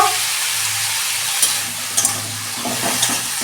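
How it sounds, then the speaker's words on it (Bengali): Mixed vegetables frying in a pan for a hilsa fish head ghonto, a steady close sizzle with a low hum beneath and a few sharp clinks of a spoon stirring near the end. "আমি 2 মিনিট সবজিগুলো ভেজে নেব"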